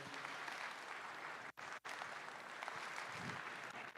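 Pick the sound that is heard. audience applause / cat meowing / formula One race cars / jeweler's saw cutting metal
audience applause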